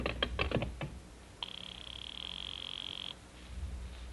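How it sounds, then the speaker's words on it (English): A house phone rings inside a radio drama: one steady electric ring of about two seconds, clear and close. Brief knocking or tapping comes before it, and quiet room tone follows. "I'll just ring him on the house phone."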